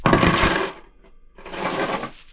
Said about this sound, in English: did chains being dropped, which sounds like this